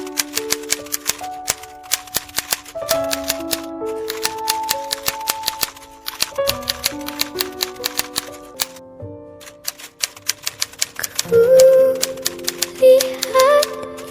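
Manual typewriter typing out a proclamation text, bursts of sharp rapid key strikes with brief pauses, carriage clicks and a bell-like ding near the end, close and clear with no talk.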